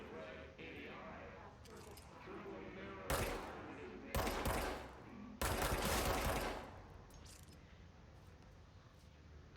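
Bursts of rapid automatic gunfire in the game Control, three dense, close volleys of a second or so each, separated by quieter stretches of low game ambience, with a voice speaking faintly underneath.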